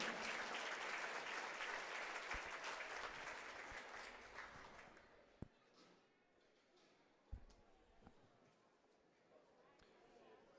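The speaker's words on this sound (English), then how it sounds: "Let's give our seniors and parents one more round of applause." Crowd applause at a high school boys basketball senior night in a Grand Forks arena, loud and sustained for about five seconds, then fading into scattered claps, murmur and a few sharp thuds.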